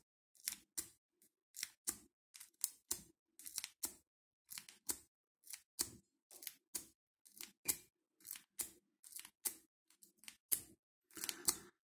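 A pick scrapes and clicks rapidly against the pins of a Master No. 3 padlock, a long run of crisp, close, evenly spaced raking ticks with a metallic snap, quiet and without voices.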